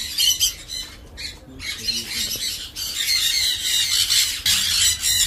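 Sun conure parrots at a breeding aviary give loud, harsh squawks in repeated bursts, close and filling the whole stretch with shrill calls.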